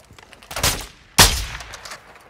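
Gunfire in the Call of Duty DMZ video game: two sharp, loud bursts about half a second apart, the second harder, each decaying quickly, with no voices.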